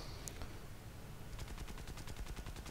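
Rapid bursts of aircraft machine-gun fire during a War Thunder air battle, an Ishak fighter as the target, chattering in an even stutter from about halfway through over a steady engine drone; no talking.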